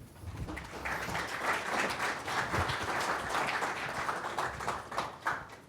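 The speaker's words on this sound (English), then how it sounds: "You haven't even heard my presentation yet, and you're clapping." An audience claps steadily for a speaker being welcomed to a water loss validation presentation, a dense, sustained patter of many hands that holds at an even level throughout.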